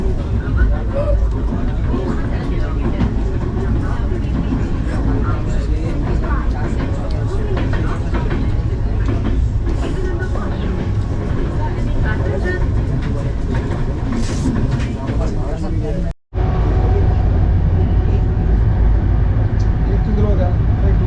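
Gatiman Express train running from Hazrat Nizamuddin toward Agra, a steady loud rumble with rattling heard from inside the carriage and a faint murmur of passengers. A brief dropout breaks the noise near the end before the rumble continues.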